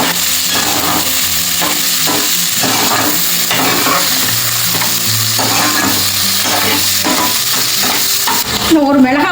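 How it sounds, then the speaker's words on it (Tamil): Chopped onions sautéing with fried cashews in a hot pan for green pulao, loud continuous sizzling and frying with repeated scraping stirs of a spoon against the pan, close up and without talk. "பொடியாக கட் பண்ண வெங்காயத்தை போட்டுக்கிடுவோம். போட்டுட்டு நல்லா வதக்கி விட்டுருங்க."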